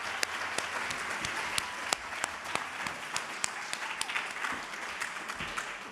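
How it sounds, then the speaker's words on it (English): An audience at the Delaware History Makers Award ceremony gives a round of applause, a steady moderate clapping with a few sharper individual claps standing out, heard from a little distance throughout. "Can we just have another round of applause for Dr."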